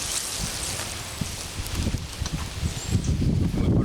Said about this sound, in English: Now with our carrots, we want to make sure they're good and watered in.